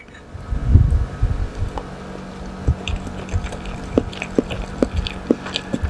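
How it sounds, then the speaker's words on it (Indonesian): Raw spring onion eaten with boiled egg gives close, moist bites and crisp crunches, an initial loud mouthful followed by a steady series of sharp crunching ticks at regular intervals against a faint background hum. "Kalau kalian dengar suara krenyes ya, itu dari daun bawang guys."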